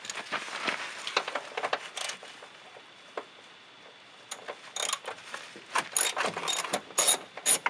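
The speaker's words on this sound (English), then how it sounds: "grab a 10mm socket and get those ones out" A hand ratchet with a 10mm socket removes bolts during a Bushwacker flat fender flare install, giving rapid, close clicking bursts of the pawl in several runs separated by brief pauses, with no talking.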